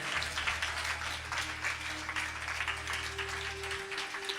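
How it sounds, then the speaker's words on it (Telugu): A church congregation clapping loudly together, a dense continuous wash of applause that fills the room for several seconds, with a low organ-like drone underneath. "ఒకసారి గట్టిగా చప్పట్లు కొడుతూ పరిశుద్ధాత్మ దేవుని కనపరుద్దాం"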